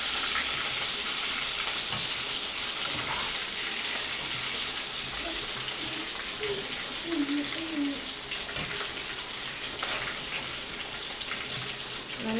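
Masala frying in a pan for a Sunday special dish, a steady close sizzle with soft stirring and faint watery crackle running throughout, no talk over it.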